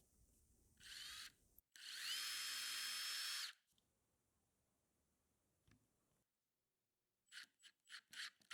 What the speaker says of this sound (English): I pre-drill small holes, making sure not to go through the other side